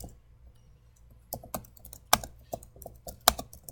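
Java code is typed on a computer keyboard in short irregular bursts of close, sharp key clicks with pauses between, no voices.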